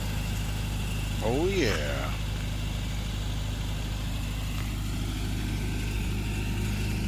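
A Toyota 86 car engine idles steadily and close by, a constant low rumble throughout, with a brief voice and a passing whistle-like sweep near the start.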